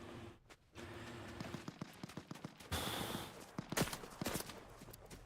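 Gunfire from bots in the video game Fortnite, a fast run of sharp, clustered shots and rattling bursts of uneven rhythm, moderately loud, with no talking.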